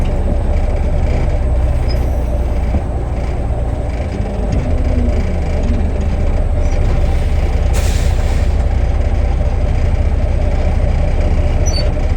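Trailer brakes on a 1964 Kenworth logging truck at a sawmill in Tenakee Springs, Alaska, give a sharp hiss of released air near the end, over a steady, loud rumble of the idling engine.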